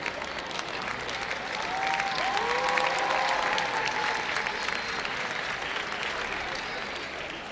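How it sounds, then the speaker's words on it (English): Steady applause from an indoor crowd as Scott Marston Smith of Kent finishes his race at the BUCS Indoor Athletics Championships, swelling midway and holding throughout, with a voice talking faintly underneath. "This here we're looking at Scott Marston Smith of Kent being applauded home"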